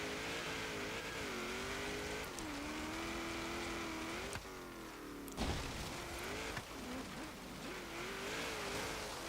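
Steady engine drone of a 1970 International Scout 800A with bull bar and lights, all-wheel drive, climbing a snowy hill in Forza Horizon 3, revs rising and dipping with brief gear-change breaks, loud and continuous without talk.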